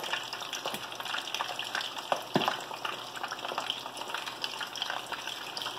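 Chicken pieces for haleem fry in hot oil in a pot, a steady close crackling sizzle with occasional sharper pops and a brief stir partway through.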